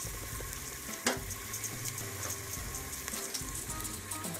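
Chopped artichokes and garlic stirred in a hot pan: a steady close sizzle and frying crackle with a spoon scraping and clacking through it.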